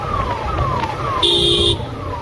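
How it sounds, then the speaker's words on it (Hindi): Ambulance siren wailing in city traffic, a rising-and-falling wail repeating about every half second. A short steady horn blast cuts in midway, over a constant hum of road noise. "एम्बुलेंस वाला सारे तो बजा"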